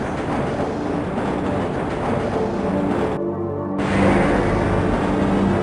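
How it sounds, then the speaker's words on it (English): Black Mesa transit train moving in the video game Half-Life, a steady loud rumble with humming, droning tones throughout, briefly dipping and then swelling again, with no talk. "This train is inbound from Level 3 dormitories to Sector C test labs and control facilities."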